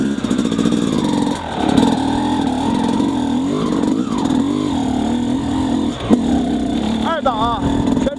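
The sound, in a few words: XTNG GEN3+ 36 motorcycle engine revving in second gear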